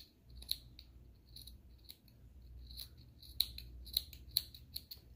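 Small metal snips trimming fabric seam allowance at a sewing machine, a series of short crisp clicks and snips scattered irregularly, close and quiet over a low room hum, with no talking.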